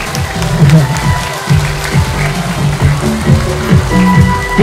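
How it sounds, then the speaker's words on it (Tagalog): Guests clap at a first birthday party, the applause running steadily under a busy room with music and voices, fairly close and loud throughout. "Palakpak!"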